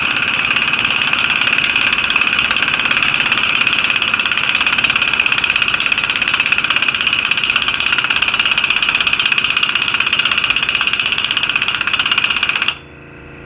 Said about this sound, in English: I'm gonna let the air compressor run back up